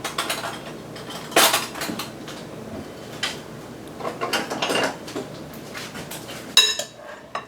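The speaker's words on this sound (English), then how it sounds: "So let me get a spoon so I can stir this up." A spoon scrapes and clinks against a bowl while ranch dressing is stirred into a warm green bean and potato salad, in a few separate bursts with quiet gaps between them.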